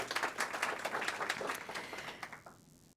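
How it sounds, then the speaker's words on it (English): A conference audience at a UN General Assembly side event on medicines access gives a short, fairly faint round of applause, scattered claps that thin out and stop near the end. "Another round of applause, please, if we can."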